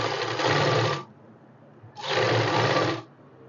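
A sewing machine runs a straight seam on tulip salwar fabric in two loud, close bursts of about a second each, separated by a short pause of quiet.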